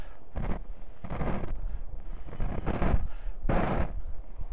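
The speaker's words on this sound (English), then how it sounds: "I'm going to try to blow on it a little bit, see how it handles" Strong puffs of breath blown across a burning Zippo fire starter, four long whooshing gusts with short gaps between them, close to the microphone and loud, with no talking.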